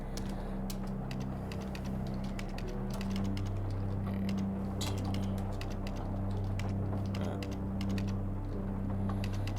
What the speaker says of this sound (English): let's just type that in next line